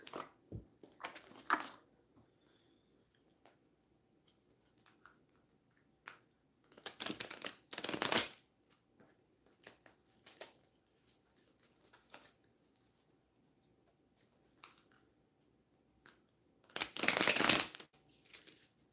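A deck of cards is shuffled in three short, crisp bursts spaced across a quiet stretch, the last burst the loudest and fullest, with nobody talking.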